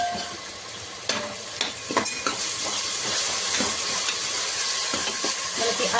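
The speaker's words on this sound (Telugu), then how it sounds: "మనకి అల్లం వెల్లుల్లి పేస్ట్ పచ్చివాసన పోయేంత వరకు మనం ఫ్రై చేసుకున్నాం" Ginger garlic paste frying in a pan for mutton keema, a steady bright sizzle and hiss with occasional stirring scrapes, close and continuous.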